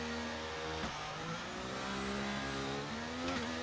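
An F1 car in F1 23 launches off the grid at a race start, its high engine whine climbing through the revs with quick gear shifts, other cars audible around it.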